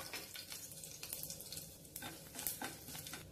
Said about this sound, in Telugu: పోపు దినుసులు వేగిపోయాయి ఒక 3 ఎండు మిరపకాయని తుంచి వేసుకోవాలి